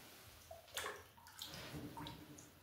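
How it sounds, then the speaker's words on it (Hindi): Water spills from a glass during a tabletop surface tension demonstration, giving a soft, close splashing and trickling that comes in a few uneven bursts at low level. "पानी गिर गया।"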